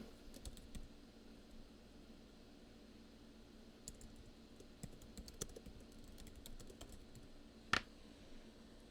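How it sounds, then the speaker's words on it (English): Soft, uneven keystrokes on a computer keyboard tap away close to the microphone against a faint steady hiss, with one sharper, louder click standing out near the end. "sorry for the clicking"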